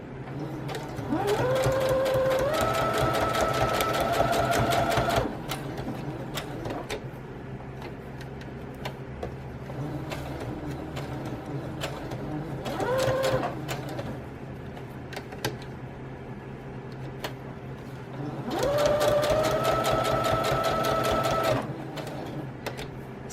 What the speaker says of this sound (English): I'm going to be sewing the inner page on right around the edge. So I kind of just go around. I'm using a straight stitch.